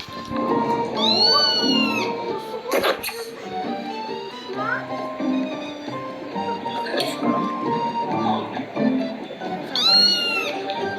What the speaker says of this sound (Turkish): Arkadan kedi sesi geliyor ve bağırıyor.